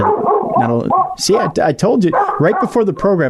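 A Labrador hound named Momo barks and whimpers in short yips close to the microphone, mixed in with a person talking over it.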